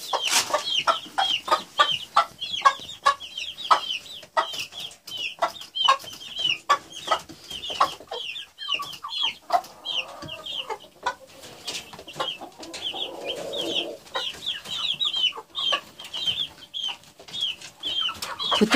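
Ross 308 broiler chickens cluck and chatter steadily in a busy flock at a feeder, short repeated calls overlapping close by with occasional rustling.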